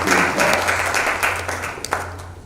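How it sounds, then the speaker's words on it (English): A short burst of audience applause at a talk event, moderately loud with scattered claps, fading slightly toward the end over a low steady hum. "A round of applause for all those who follow us."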